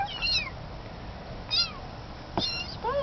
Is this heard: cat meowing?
yes